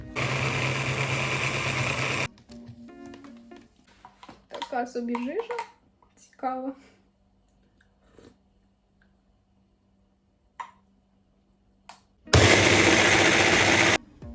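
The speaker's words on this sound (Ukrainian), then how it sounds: "додаємо водички та блендерем." Loud electric blender whirs on a smoothie of chopped apple, parsley and water, running in a steady burst at the start and again at the end, with someone talking quietly in between.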